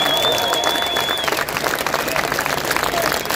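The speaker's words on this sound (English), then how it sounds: "Let's have a round of applause for the survivors." Outdoor crowd applause and cheering at a London march, a dense continuous wash of clapping with a whistle-like tone and voices mixed in throughout.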